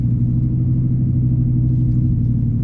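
A steady, deep engine rumble fills the cabin of an Audi R8 cruising on a road, loud and constant with no speech.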